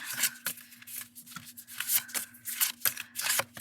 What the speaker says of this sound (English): we're going to try to shuffle 3